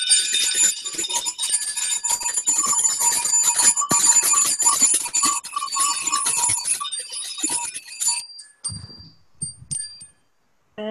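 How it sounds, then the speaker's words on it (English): Many bells ring together during a worship service in a dense, continuous jangle for about eight seconds, then scattered single rings trail off into near silence. "Let us ring our bells."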